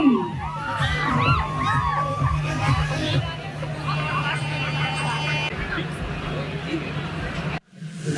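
A large audience at a university annual day celebration with a minister as chief guest cheers, whoops and shouts loudly and continuously, with some clapping, the crowd noise dropping out only briefly near the end.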